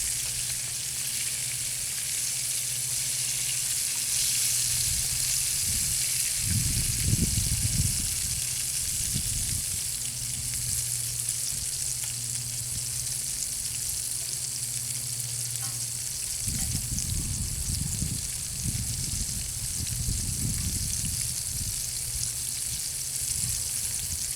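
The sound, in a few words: frying battered bass for lunch over a campfire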